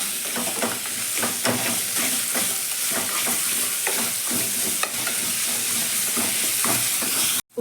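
Onions and potatoes salted in a pan fry with a steady sizzle while being stirred, repeated scraping and clattering strokes sounding close and alone before an abrupt stop.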